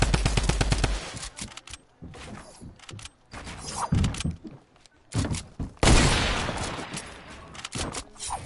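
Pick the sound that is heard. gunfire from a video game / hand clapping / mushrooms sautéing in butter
gunfire from a video game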